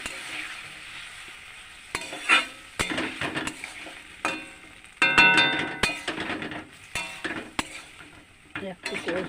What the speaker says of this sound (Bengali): আলুগুলো দিয়ে দিই ভেজে রাখা, মশলাটা একটু জল দিলাম, জল দিয়ে দিলাম একটু।